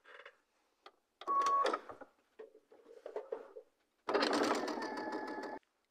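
A sewing machine stitches a quilt block corner unit in one steady, close run of about a second and a half near the end, after scattered handling noises and a short earlier burst.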